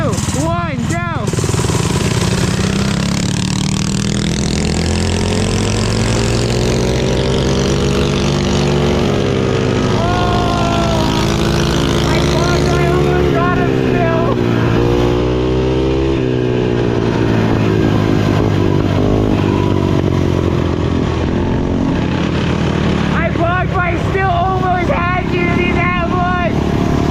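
Two cheap home-built mini bikes rev their small engines in a head-to-head race, a loud continuous whine rising and falling in pitch as they accelerate, with people talking over it.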